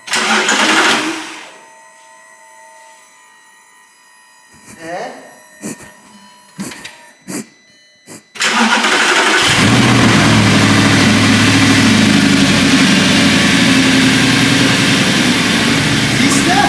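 Audi R8 engine starting and then idling steadily while warming up, a loud continuous mid-pitched hum that follows a few sharp clicks and a brief spoken remark in a quiet garage.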